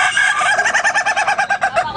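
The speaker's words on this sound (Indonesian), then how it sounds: "mempamerkan beberapa ayam kerdil atau biasa disebut dengan ayam serama" A serama bantam chicken, a tiny breed, gives a loud, close crow of rapid pulsing syllables lasting about two seconds, with no talking around it.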